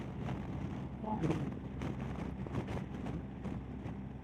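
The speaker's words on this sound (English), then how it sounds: "It's really unpredictably gusty." Strong, unpredictable gusts buffet the microphone during a two-up ride on a BMW R1250 GSA motorcycle, a loud continuous roar that surges and fades, with voices talking over it.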